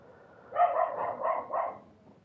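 A dog barks in a short burst of three or four quick, fairly close barks in a quiet room, then falls silent.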